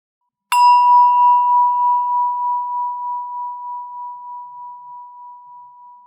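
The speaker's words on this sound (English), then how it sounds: "Every time you hear the bell" A single meditation bell is struck once, giving a clear ringing tone that lingers and slowly fades with a gentle wavering pulse over several seconds in otherwise silent surroundings.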